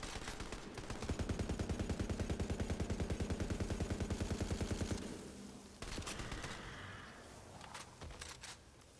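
Gunfire in the video game Tiny Tina's Wonderlands, a long, fast, evenly spaced stream of automatic shots, then a pause and a few more scattered bursts, loud and close.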